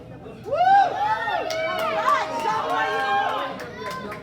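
Crowd at a wrestling match between Lengua Diablo and Mateo Gemini, held on a hard linoleum floor, fills the room with steady murmuring chatter and scattered raised shouts and whoops that swell and fade over several seconds.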